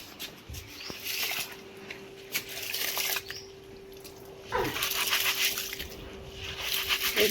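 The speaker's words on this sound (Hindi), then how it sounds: "इस तरीके का धो लेंगे भाई गेहूँ को।" Wheat grain is washed by hand in a bucket of water, with intermittent sloshing and swishing, light clinks and splashes, and a busier stretch of stirring toward the end.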